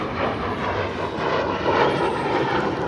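Air Force aircraft flies low over Jal Mahal during an air show in Jaipur, a loud, continuous roaring engine rush that swells and holds for a few seconds.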